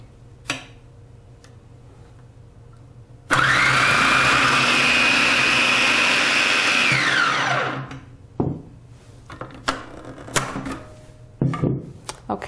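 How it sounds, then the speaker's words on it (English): A Black and Decker 8 cup food processor slices cucumber with a loud, steady motor whir that runs about four seconds and then winds down, followed by clicks and clatter as it is handled. "I'm gonna brave it and slice this cucumber"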